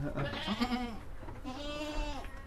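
A four-month-old male cross Boer kid on a dairy goat farm bleats twice in close succession, loud and near, each call wavering and drawn out, with farm background noise behind.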